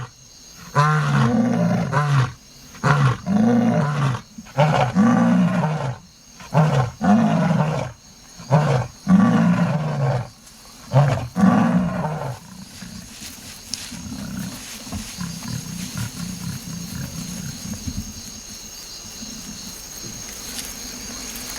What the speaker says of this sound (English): The prelude is this roaring, the male and female synchronizing their roars.